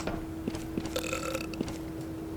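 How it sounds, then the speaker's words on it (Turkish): A cartoonish burp from a Roblox character that has just eaten cake in an escape-the-bakery obby, a short belch standing out over a steady game tone with a few soft clicks. "Yemesiyle geğirmesi bir oldu."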